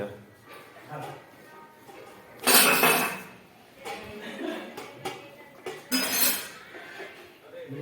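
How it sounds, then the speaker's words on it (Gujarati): Dishes clink and clatter as they are handled and wiped, with a couple of louder bursts of rattling, while people talk nearby. "વાસણ લૂછવાનું કામ ચાલે"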